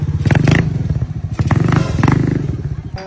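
A motorcycle engine revs loudly and close by in pulsing, throaty bursts, while people call out excitedly over it.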